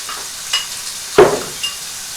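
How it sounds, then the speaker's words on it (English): Onions and garlic fry in a little cooking oil in a pan, giving a steady close sizzle broken by a few louder stirring scrapes, with no one speaking. "Just going to fry these a bit until they're a bit golden brown."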